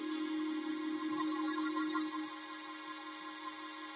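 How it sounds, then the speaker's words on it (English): Synthesized violin notes generated in Mathematica sustain as a continuous buzzy, harmonic-rich tone with a faint pitch change partway, fairly quiet and without voices. "Sound of violin."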